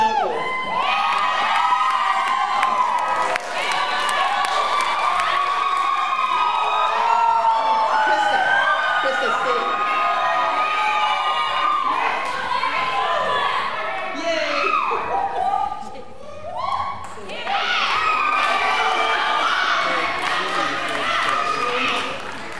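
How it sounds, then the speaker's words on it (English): An audience claps and cheers for chaperones called up on stage, a dense, lively crowd noise with shouts and whoops running throughout, swelling and dipping near the end, with a voice speaking over it. "So let's give another round of applause."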